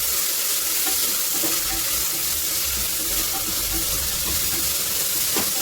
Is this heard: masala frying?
yes